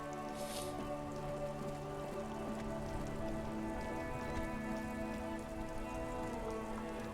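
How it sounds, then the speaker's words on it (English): Steady rain falls on surfaces in the video game Disco Elysium, an even, continuous patter with soft drips under a low background drone, no talk over it. "Stuck in the rain in a traffic jam, man."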